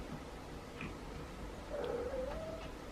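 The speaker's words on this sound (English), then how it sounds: "So we have all 7 cats." A feral cat gives one faint, drawn-out meow over a low, steady background hum, with a few soft incidental noises nearby.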